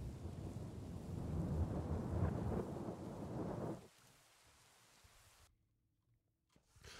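Steady rain hisses with a low thunderous rumble for a few seconds, then cuts off abruptly into near silence.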